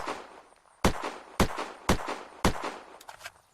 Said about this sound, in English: there are some new firing sounds, so let's throw a new mag in this one, take a few shots at the tree